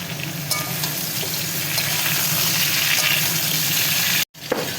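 Vegetables sizzling and crackling steadily in hot oil — potato and pumpkin frying for a vegetarian curry with cardamom added — with a continuous close sizzle, a brief stir, and a sudden cut near the end.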